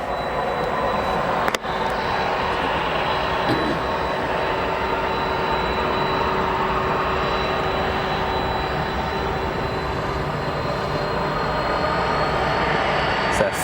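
Jet aircraft taxiing at O'Hare Airport, a steady broadband engine roar with a sustained whine, constant and fairly loud throughout with one brief dip near the start.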